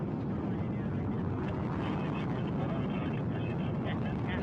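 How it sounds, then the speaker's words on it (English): Soyuz MS-26 rocket engines roaring at full thrust during liftoff, a dense continuous rumble that holds steady and loud throughout, with a voice talking over it. "The engines are at maximum thrust, booster ignition now at full throttle, and we have liftoff"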